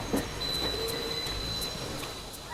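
A train running along a railway, a steady rumbling roll with a faint high whine and regular rhythmic clicks, continuous and moderately loud with no voices.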